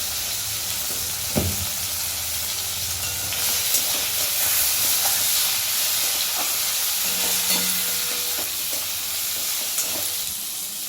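Potato, ginger paste, cumin and turmeric mixture sizzling in a hot pan while being stirred, a steady hiss broken by scraping clicks and occasional thumps of the spoon, close and prominent.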